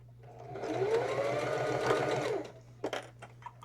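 A sewing machine stitches along the edge of a fabric Kindle book sleeve, a steady close whirring run for about two and a half seconds before stopping, followed by a few faint handling clicks.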